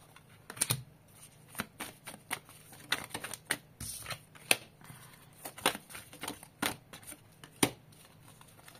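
Oracle cards being shuffled by hand in quick irregular bursts of crisp riffling and flicking, close and fairly quiet, with short pauses between handfuls.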